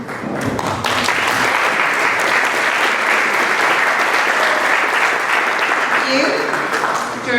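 Loud audience applause with some cheering at a live contest event, a dense burst of clapping that swells after the first second and holds steady to the end, close and full.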